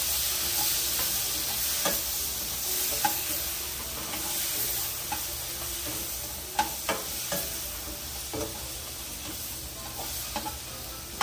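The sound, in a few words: tofu sizzling and being stirred on a sizzling plate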